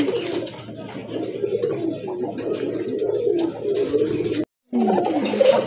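Several domestic pigeons coo continuously in low, throaty, overlapping rolls close by, with a brief silent gap near the end before the cooing resumes.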